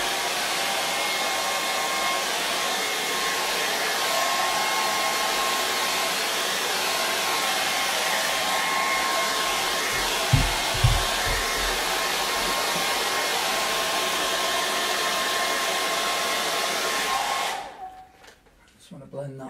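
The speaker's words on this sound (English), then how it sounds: "Hair dryer." A hair dryer blows steadily in a room where a charcoal and acrylic portrait is being worked on, a loud constant whoosh with a few low knocks midway, then it switches off near the end.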